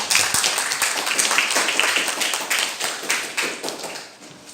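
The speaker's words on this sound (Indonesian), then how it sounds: "beri aplaus untuk Debbie" A classroom bursts into steady applause for Debbie, many hands clapping quickly and evenly, close and fairly loud, fading slightly toward the end.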